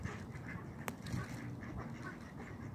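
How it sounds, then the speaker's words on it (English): Ducks quacking on a swamp, several soft quacks and calls at moderate distance over a steady low background, with one sharp brief click partway through. "What are the other ducks right there?"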